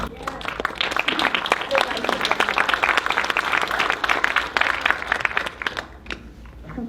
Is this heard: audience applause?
yes